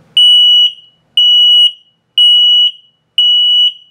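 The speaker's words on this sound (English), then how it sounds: "And when it beeps slowly like that, it's telling you your battery's low." A carbon monoxide and LP gas detector in a 2020 Bighorn Traveler 39RK RV sounds four loud, evenly spaced high-pitched beeps, each about half a second long, with short silences between them.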